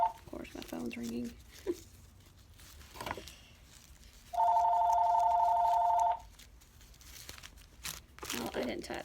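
Rustling and crinkling give way to a loud, steady electronic phone ring lasting a couple of seconds, then quieter handling sounds return.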